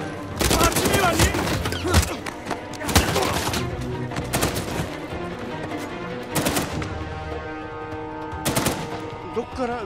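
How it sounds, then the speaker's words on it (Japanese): Sustained gunfire in the action video game Uncharted 4, with rapid automatic bursts and sharp repeated shots that come loud and dense throughout, layered over game music and effects. "どっから撃ってる"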